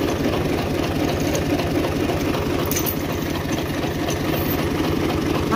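A diesel tractor engine runs at a steady idle, a loud, close, low-pitched rhythmic chugging with even knocking pulses and no speech.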